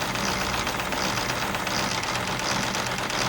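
A 1920s-30s Joseph Falk or Schoenner overtype model steam engine in red and brass runs steadily with its governor spinning, giving a close, continuous rapid chuffing and mechanical clatter.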